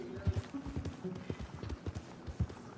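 Horse hooves clip-clop at a steady walking rhythm in the Red Dead Redemption video game, a run of soft low thuds with faint background noise.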